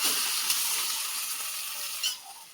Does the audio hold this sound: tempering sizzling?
yes